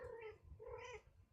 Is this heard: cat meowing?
yes